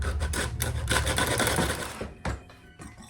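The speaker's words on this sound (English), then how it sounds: "gonna sift it into the bowl." Dry ingredients and spices for gluten-free carrot cake bread being sifted into a bowl give a close, steady rasping and scratching that softens near the end, with no talking.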